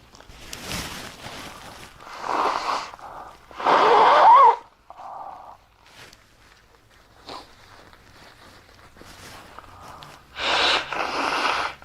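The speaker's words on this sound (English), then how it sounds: "I need to blow my nose." Several loud bursts of breathy, honking air through the nose, with short pauses between them, close to the microphone.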